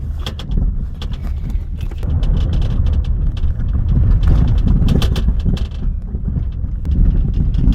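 A van rolls slowly over a bumpy, rough road, its close low rumble broken by repeated rattles and knocks from the body and suspension, with wind buffeting throughout.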